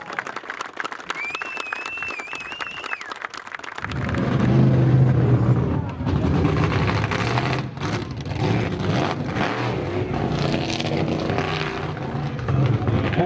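A debut monster truck's engine roars and revs at the Monster Truck Hall of Fame grand opening event. It surges in loud and close after a few seconds of quieter crowd ambience and carries on steadily with crowd noise underneath.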